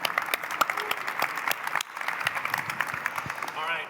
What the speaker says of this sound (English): Big round of applause for Rick here.